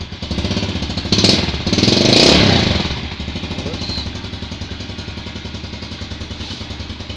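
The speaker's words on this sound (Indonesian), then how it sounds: "menyalakan mesinnya supaya kita dengar bahwa sepeda motor ini masih asli" A Yamaha Vega R motorcycle in clean original condition idles with a steady, close-up mechanical clatter, briefly revving louder near the start before settling back into an even putter.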